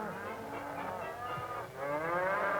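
A prize calf at the Missouri State Fair moos in long, drawn-out lowing calls that carry across the whole stretch, loud and close, with no talk.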